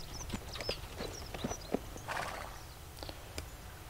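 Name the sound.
horse hooves clip-clopping while reversing, video game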